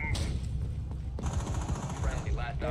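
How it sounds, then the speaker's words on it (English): Pistol fire in a ranked Rainbow Six Siege match, with shots fired through smoke coming as a quick burst of sharp, close reports that run close together. "Shooting through the smokes injured 2 players."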